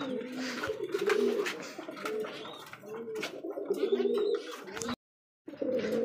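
Giribaz pigeons coo in soft repeated low calls, close by, among chirps and shuffling in a pigeon coop, with a brief silent gap near the end.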